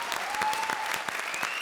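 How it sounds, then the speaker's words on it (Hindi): Studio audience applause on a comedy show, a dense burst of clapping from the crowd, loud and brief, with a faint tone running underneath. "एक बार फिर से जोरदार तालियां."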